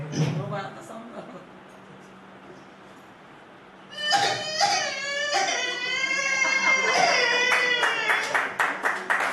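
A voice artist imitates a child crying after being slapped by a teacher at school, with sobbing, wailing cries rising after a quiet pause, backed by the murmur of a live audience and some clapping.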